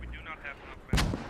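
Mortar rounds land in a tactical shooter match: a loud, close blast bursts in after a quieter stretch of faint distant rumble, with the explosion ringing briefly before fading.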